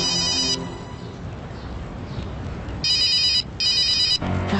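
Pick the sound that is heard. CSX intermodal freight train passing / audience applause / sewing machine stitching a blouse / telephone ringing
telephone ringing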